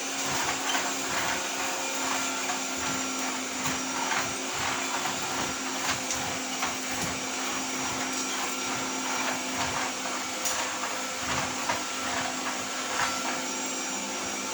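A vacuum cleaner drones steadily and loudly at close range the whole time, its whine barely shifting as the nozzle is pushed back and forth, with no voices.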